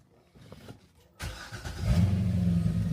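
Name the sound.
car engine starting and revving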